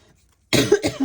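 A single harsh cough bursts out after half a second of near silence, loud and close, with a short second hack trailing into a throat-clearing rasp.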